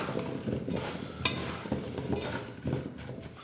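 Chicken breast pieces are tossed in Cajun seasoning in a bowl, giving a close, steady rustle and scrape with a few sharper knocks, continuous for a few seconds with no voices.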